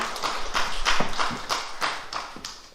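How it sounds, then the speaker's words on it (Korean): A church congregation applauding together during a Sunday worship service, a short burst of dense, fairly close clapping in uneven pulses that swells and then eases off. "우리 하나님께 영광과 감사의 박수 올려드리기 원합니다"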